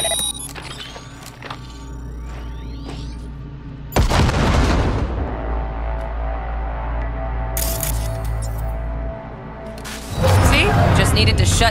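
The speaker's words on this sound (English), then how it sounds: "Now, detonate the grenade." A grenade detonates in the game Cyberpunk 2077 with a sudden loud boom and a long rumbling tail, then a second burst of noise follows while a voice talks over the game sounds.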